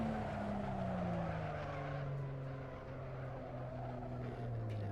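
A race car brakes hard in Assetto Corsa. The engine pitch winds down steadily under a long, continuous tire squeal and road roar, loud and close, with no talking.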